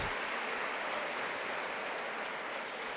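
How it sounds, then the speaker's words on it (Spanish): Basketball crowd in a Menorca arena applauds a player leaving the court, a steady wash of clapping from the stands heard from a distance, even and unbroken throughout. "Aplausos"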